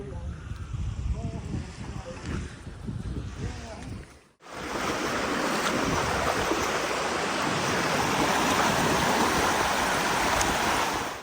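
Floodwater rushes across rice paddies, roaring loudly and steadily, with a strong wash of wind noise; a quieter stretch near the start carries faint voices before the roar swells.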